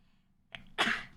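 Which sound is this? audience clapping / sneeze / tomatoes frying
sneeze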